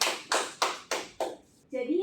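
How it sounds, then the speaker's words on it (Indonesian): Classroom applause as students clap hands in four or five short, distinct bursts, fairly close and moderate in volume, followed by a brief pause and then a voice beginning to talk. "tepuk tangan untuk kita semua"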